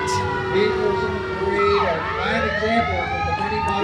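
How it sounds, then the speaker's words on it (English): Fire engine sirens at a 4th of July parade, a wailing siren sweeping down and back up in pitch with steady tones alongside, fairly close, over crowd noise and background chatter. "as we can hear the fire engines"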